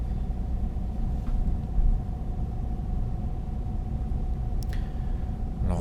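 A car drives steadily at 30 km/h through town during a driving test in Montgeron, heard from inside the cabin as a constant low road rumble with a faint steady hum.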